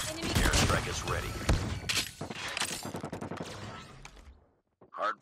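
Video-game gunfire from a Peacekeeper during a hardpoint match on the map Rush: dense, rapid shots close by in a loud, busy stretch, then the firing stops and a short sound follows after a gap.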